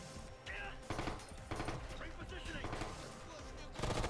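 Automatic gunfire pelts the player in Ghost Recon Future Soldier, with rapid bursts of shots repeating in several loud clusters across the clip, partly under a voice talking.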